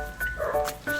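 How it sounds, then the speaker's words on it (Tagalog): A pet dog at home gives short yappy barks and whiny yips, close and fairly loud, mixed with a person talking. "Pasensya nyo na yung aso namin, guys, ha. Maingay lang talaga yan."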